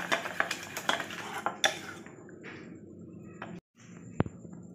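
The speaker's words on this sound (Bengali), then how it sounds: "তিন চার মিনিট সময় ধরে এটাকে খুব ভালোভাবে একটু ফেটিয়ে নিতে হবে।" Chocolate cake batter beaten by hand in a bowl, close rhythmic clinks and scrapes of a utensil against the bowl for a couple of seconds, then quieter stirring with a brief pause and a final sharp clink.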